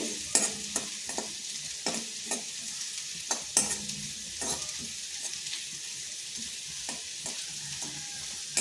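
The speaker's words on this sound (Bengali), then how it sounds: "পোস্তটাকে হালকা ভেজে নিচ্ছি" Poppy seeds fry lightly in a wok with a faint, steady sizzle while a spatula stirs them in frequent short scrapes and taps, close and fairly quiet.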